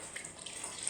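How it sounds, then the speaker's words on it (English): Water runs steadily into a soup pot in a home kitchen, a soft continuous hiss and trickle at close range, moderately faint, with no talking over it. "I might put a little bit of water in that"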